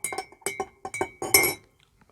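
Brewed coffee from a Hario V60 dripper stirred in a heat-resistant glass server, giving a run of bright glassy clinks and taps in quick clusters, close and clear, ending in a brief flurry before falling quiet.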